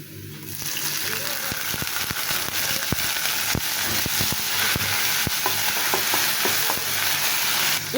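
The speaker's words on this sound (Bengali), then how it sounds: "তো পেঁয়াজটা আমি হালকা একটু ভেজে নিচ্ছি।" Chopped onion fries in a pan, sizzling steadily and loudly with crackling pops and the scrape of stirring, while a voice talks faintly over it.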